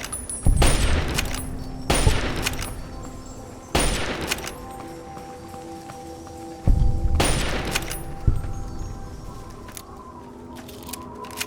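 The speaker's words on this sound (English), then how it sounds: "Oh, you having a firefight over there, Enclave soldier?" Bursts of automatic gunfire in a Fallout firefight with Enclave soldiers, several loud volleys spaced a second or two apart, each trailing into a rumbling echo, with no voices.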